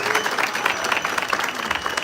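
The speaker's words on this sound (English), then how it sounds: "let's just clap hands for him" An audience claps hands in sustained, dense applause throughout, a steady wash of many hands at moderate loudness.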